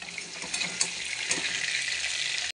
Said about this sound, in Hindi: मछली भुना जा रहा है, अपना आराम से सीम आंच में हो रहा है।